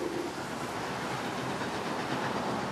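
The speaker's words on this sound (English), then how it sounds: "Our first Canadian train is pulled by one of the locomotives that used to haul expresses right across the country 60 years ago." Canadian passenger train in British Columbia hauled by a vintage express locomotive, a steady rolling rumble of railcars with faint clickety-clack, continuous and moderately close.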